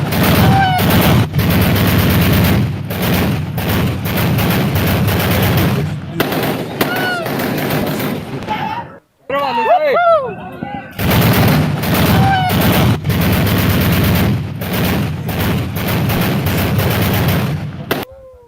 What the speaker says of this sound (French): nous sommes les tirs de joie avec les feux d'artifice